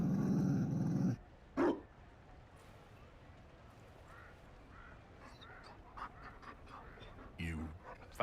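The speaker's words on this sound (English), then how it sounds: "You found a dog?" A Mabari war dog in Dragon Age Inquisition gives a loud growl and short panting breaths at the start, followed by quieter game ambience and brief bursts of character speech.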